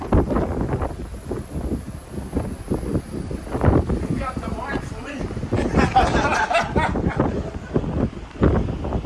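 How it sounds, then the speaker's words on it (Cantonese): Gusty wind buffets the microphone with low rumbling bursts on the deck of a moving MSC Meraviglia cruise ship while people talk nearby, over a steady background hiss of moving air and water. "一路行都好大風啊，因為船行緊。"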